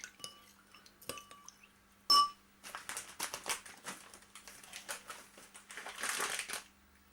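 Rice being stirred round in a pan for a beef mince and rice pie, quiet scraping and rustling of grains with a clink of a utensil, close and soft, with no talk.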